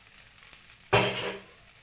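Oil poured onto sorghum flour dosa batter on a hot pan, a sudden loud hiss bursting in and then fading to a softer sizzle, close by.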